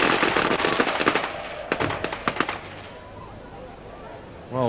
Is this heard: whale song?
no